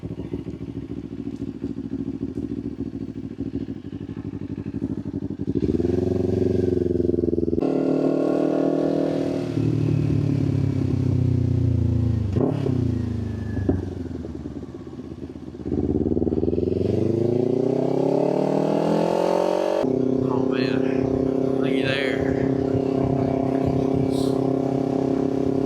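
A motorcycle ridden along a road on a sunny day after a week of rain, engine droning steadily and rising as it accelerates, with occasional clattering thumps over the rough surface, up close and with no talk.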